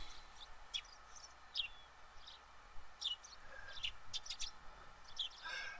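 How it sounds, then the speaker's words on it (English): Birds chirp in short, bright, scattered tweets against a faint, quiet ambience as a morning scene plays out in the Higurashi video game, with several calls overlapping and coming from a moderate distance. "The chirping of birds served as my alarm clock."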